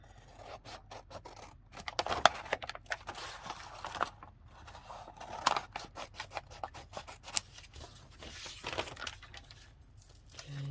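Scissors snip through paper and card while a playing card is cut into a winter booklet, with repeated close crisp cuts and rustling handling of the sheets between them, no talking.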